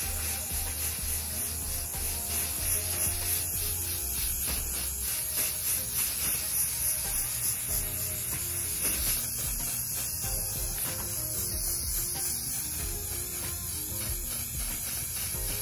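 A continuous hissing from a spray paint can runs steadily for the whole stretch, faint and close, with slight rubbing variations throughout.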